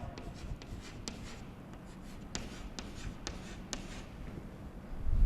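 A pen scratches steadily across paper while writing an accounting narration, soft continuous strokes broken by small ticks and taps, close and unaccompanied by speech.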